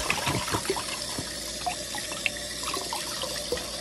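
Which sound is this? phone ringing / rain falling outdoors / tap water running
tap water running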